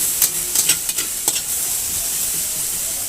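Ginger-garlic paste and chili paste frying in a pan for vegetable fried rice: a constant hissing sizzle with a few sharp scraping stirs near the start, then an even, steady fry with no voices.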